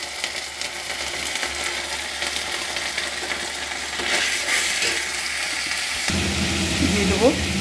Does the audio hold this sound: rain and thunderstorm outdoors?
no